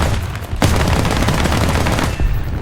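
Aircraft guns firing in War Thunder, a loud sustained burst of rapid machine-gun fire starting abruptly and hammering on for about a second and a half before stopping, close and without talk.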